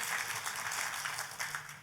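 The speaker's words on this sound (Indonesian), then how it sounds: "Tepuk tangannya yang paling meriah buat Tuhan kita." Applause from a church congregation during a sermon, a brief, fairly faint burst of many hands clapping together.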